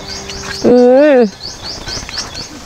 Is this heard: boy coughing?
no